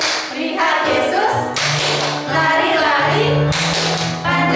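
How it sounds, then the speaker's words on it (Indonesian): Children clap the tepuk Sakeus chant at a Sunday school session, rhythmic bursts of sharp claps in a repeating pattern with chanting voices between them, close and loud. "kita tepuk Sakeus dulu yuk"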